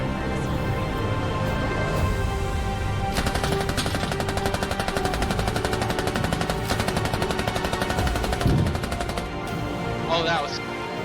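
Rapid automatic video-game gunfire rattles in sustained bursts for several seconds, loud and close, with an excited voice talking over the shooting and a few scattered single shots near the end.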